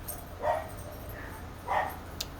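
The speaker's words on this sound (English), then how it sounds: "my dogs are barking" Dogs barking indoors: two distinct bark bursts about a second apart with a faint yip between, moderately close, no speech over them.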